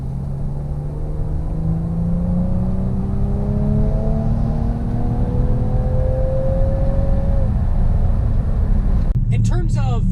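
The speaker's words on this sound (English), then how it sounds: "The sound that this engine makes is really, really neat actually." A 2019 Ford Edge ST engine accelerating from inside the cabin, a steady rising drone that climbs in pitch over several seconds and then drops sharply near the end as the gear changes, loud and continuous, with someone talking over it.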